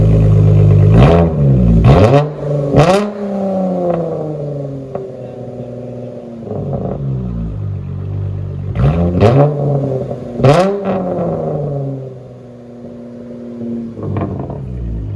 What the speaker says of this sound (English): I think these are my new favorite DYNOMAX bullets. They're the minis. They sound really good.